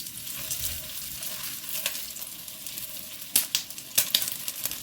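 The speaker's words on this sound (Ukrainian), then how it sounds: "Сковорідка розігрілася з олією. Зараз опускаю гомілки." Chicken drumsticks frying in hot oil in a skillet, a steady close sizzle with a few sharp pops and crackles toward the end.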